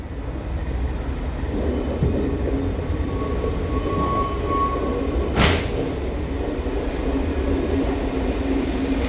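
An electric multiple unit train rumbles past close by at Braunschweig main station at night, a steady low roar, a brief whine and a sharp burst of noise midway, no talk.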